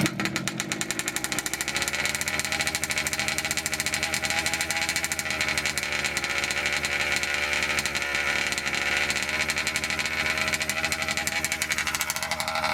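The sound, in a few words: nitro RC car engine idling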